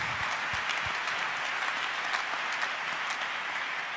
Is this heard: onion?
no